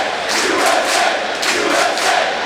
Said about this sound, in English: Houston Fieldhouse crowd chanting USA